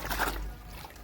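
Water mixed with a yellow turmeric-like colour is splashed onto a floor to coat it, a brief wet slap followed by a soft trickling spread, heard close and fairly quiet.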